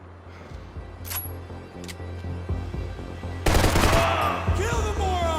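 Rapid automatic gunfire from a firefight in the video game Max Payne 3, loud bursts building to a dense fusillade in the second half, with shouting voices mixed in.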